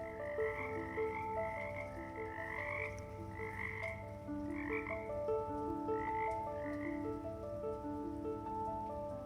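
Poison frogs call in the understory of a Colombian rainforest, a steady chorus of repeated croaks with pulsing higher trills over a constant wash of rain-like hiss, loud and continuous throughout.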